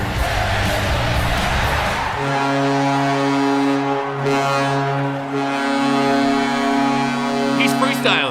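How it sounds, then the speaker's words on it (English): The Seattle NHL team's goal horn blares in a loud, sustained, varied blast over a roaring arena crowd, shifting pitch rather than holding one steady tone. "you can tell he's honking his horn."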